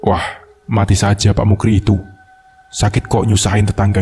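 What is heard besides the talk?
No everyday noises stand out.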